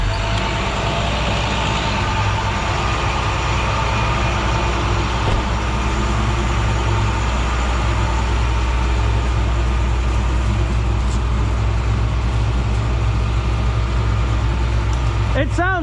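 A 1970 Pontiac GTO V8 idles up steadily, a loud continuous low rumble that holds throughout with no pauses or distinct revs.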